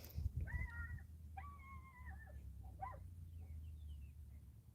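Faint, distant high-pitched yips and whines from a small dog barking at cows in Arizona, a few short bursts over a low background hum.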